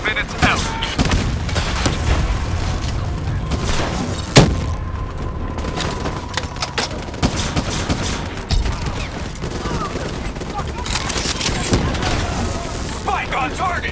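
Explosions and dense gunfire from Call of Duty: Black Ops 3 fill a frozen-forest battle, a loud boom cutting through continuous shooting, while voices shout over the chaos.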